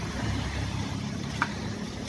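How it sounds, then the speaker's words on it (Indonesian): Yamaha R15 V3 motorcycle engine fitted with a Proliner short exhaust, idling with a steady low rumble up close, with a brief sharp blip near the end. "kita review knalpot Proliner dari R15"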